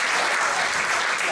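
A dense burst of audience clapping after a live blues jam performance, loud and close, filling the whole moment without pause.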